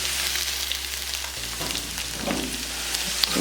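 Breakfast potatoes fry in a pan with a steady, close hiss of oil, broken by brief crackles and the shuffle of a stirring utensil partway through. No voices are heard.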